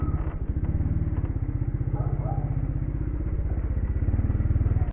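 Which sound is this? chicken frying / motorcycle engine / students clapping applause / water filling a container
motorcycle engine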